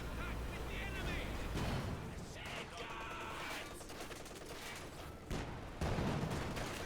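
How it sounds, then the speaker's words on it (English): An MG34 machine gun in a Company of Heroes 2 battle fires sustained bursts among dense battlefield noise and distant explosions, loud and continuous, with a commentator talking over it. "MG34 engaging the conscripts."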